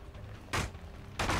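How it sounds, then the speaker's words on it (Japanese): Explosion sounds in the horror game Dead by Daylight come as two loud, broadband bursts about two-thirds of a second apart, each held briefly over a quiet background with no talking. "何の爆発だ？"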